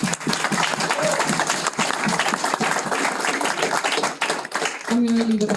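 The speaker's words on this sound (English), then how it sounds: "So a big round of applause to our panel and our panel moderator" Sustained audience applause for a panel and its moderator at a panel event, dense clapping throughout at steady loudness, with a voice starting to speak near the end.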